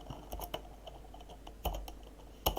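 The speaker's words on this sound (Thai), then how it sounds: "แล้วก็พิมพ์ฟังก์ชัน php info ไป" Scattered clicks of computer keyboard keys are typed in short, faint, irregular bursts at close range, with louder individual keystrokes standing out and no talk.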